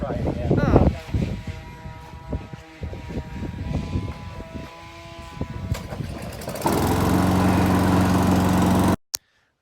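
A roadside push lawn mower's small engine is pulled over by hand and then catches, settling into a steady, loud running drone near the end before cutting off abruptly. People talk during the starting attempts.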